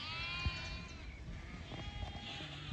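Sheep bleating in a pasture while being moved, a few scattered calls over a steady outdoor background, fairly faint and not close.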